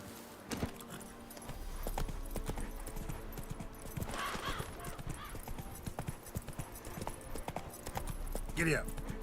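Horse hooves clip-clop at a trot in The Witcher 3, a steady rhythmic beat with in-game ambience, a brief whinny near the end and a voice talking over it.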